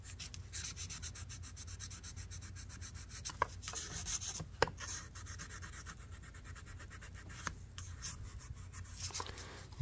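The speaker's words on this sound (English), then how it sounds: "I just take a little fine grit sandpaper here." Fine-grit sandpaper rubbed over the blade of an old orange knife being restored, giving a steady close scratchy rasp with a few sharper strokes, no voices.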